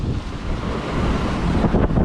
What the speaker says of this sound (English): the wind's just gone back up